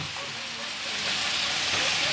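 Bean sprouts and tofu fry in a pan while being stirred, a steady close sizzle that swells slightly louder partway through.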